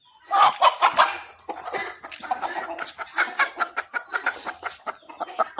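Hens cluck nearby on a poultry farm in a steady stream of short, rough calls, several birds overlapping at moderate volume.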